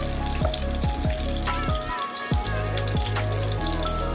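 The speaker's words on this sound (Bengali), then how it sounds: "এবার ওই তেলেই কিন্তু বাকি চিকেনগুলো একভাবে ডিপ ফ্রাই করে দিতে হবে।" Pieces of chicken deep frying in hot oil for a capsicum chicken dish, a steady close sizzle broken by repeated sharp pops and stirring knocks.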